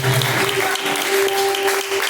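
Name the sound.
congregation clapping in praise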